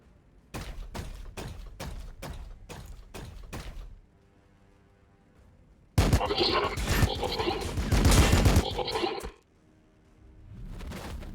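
Secondary gun firing in Warhammer 40,000: Battlesector: a run of about eight sharp, evenly spaced shots, then a pause, then a denser, louder burst of impacts and blasts lasting about three seconds.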